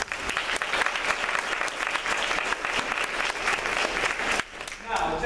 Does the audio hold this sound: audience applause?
yes